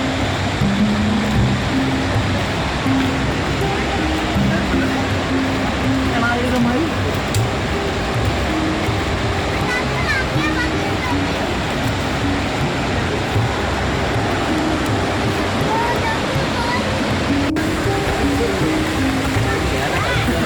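Steady, dense roar of falling water at Aagaya Gangai waterfall in the Kolli Hills, continuous and loud throughout, with voices faintly mixed into the wash of noise.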